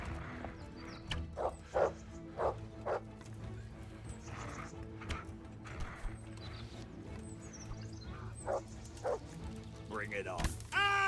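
Dog barking in the video game Kingdom Come: Deliverance, a series of loud separate barks in an uneven rhythm amid horse whinnies and hoof clops, with people talking over the scene.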